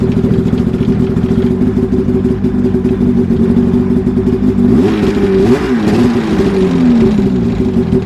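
An old abandoned snowmobile engine runs loud and close with a rough, steady idle, then revs up and down several times in the second half of the clip.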